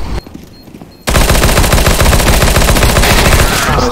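Rapid automatic gunfire from an SMG in a CS:GO competitive match on the Inferno map bursts in after a quiet second and keeps hammering loud and close, with a few faint voice fragments in the first moment.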